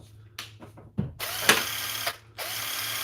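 A Milwaukee 3/8 cordless ratchet wrench with a small battery fitted runs in short, close bursts of whirring motor and ratcheting, weak and underpowered, after a few handling clicks.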